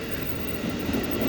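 Inside a new CRRC Sifang KCI SFC120-V electric commuter train, a steady low rumble and hum of the moving carriage continues briefly with no voices.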